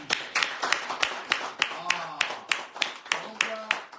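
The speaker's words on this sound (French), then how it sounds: "Alors on les applaudit." People applauding in a small group at a live radio bistro broadcast, sounding as a brisk, rhythmic run of fairly close hand claps with even spacing, steady and loud from start to finish.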